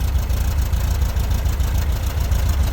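A 1967 high-roof Volkswagen bus with an air-cooled 1776 cc engine on dual Dellorto carburetors idles steadily, a close, low, continuous rumble with even pulsing and no voices.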